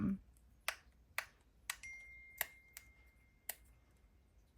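A phone chimes with a text message notification, giving a single faint ping tone with a short sustained ring. Sharp clicks and taps sound around it in a quiet room.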